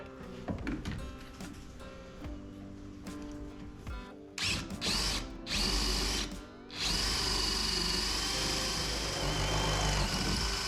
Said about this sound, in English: And then I'll drill out this last hole to put the final bolt on the jack plate.